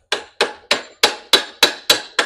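Eight evenly spaced, sharp metallic hammer strikes land on a generator during a repair of its governor race, each ringing briefly before the next, close and loud.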